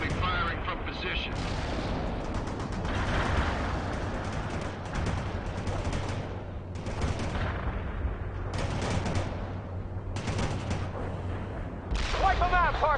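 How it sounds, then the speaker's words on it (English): A Bradley APC fires from position in the World in Conflict real-time strategy game, sending repeated heavy cannon and machine-gun bursts over a constant battlefield roar, with radio-style voice callouts in between. "Bradley firing from position."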